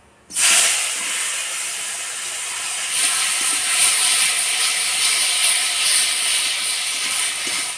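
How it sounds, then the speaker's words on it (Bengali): Dried red chilies and mustard seeds hit hot oil in a wok, bursting into a loud, steady sizzling hiss that flares at once and holds strong and close to the end, with no talking. "চাটনিতে ফোড়ন দিব শুকনো লঙ্কা, সরষা"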